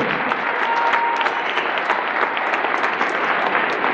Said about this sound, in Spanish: toda esta generación a quien le damos un aplauso a todos